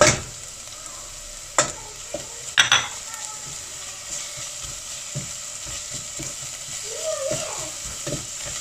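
Onions and peppers with a garlic-ginger mixture being stirred in a pan, a soft continuous sizzle with a few sharp utensil knocks against the pan early on, close and fairly quiet.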